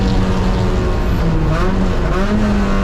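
A race car pulls hard out of a corner on a wet track, its engine droning loud and steady with rising pitch as it accelerates, mixed with broad spray and road noise throughout.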